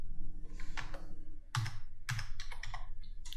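A word is typed on a computer keyboard, several bursts of quick, close key clicks with short pauses between them, heard alone.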